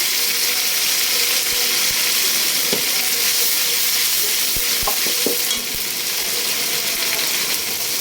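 Onion paste frying in a pan while duck curry is being cooked, giving a steady close sizzle with occasional scraping and stirring clicks throughout.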